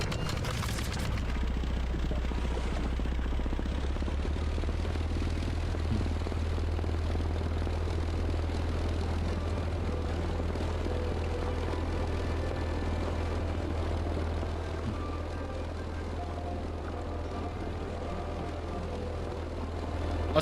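A propeller fighter plane in a flight video game roars at full takeoff power, a loud steady engine drone with a deep low hum that holds for the whole stretch and eases slightly near the end.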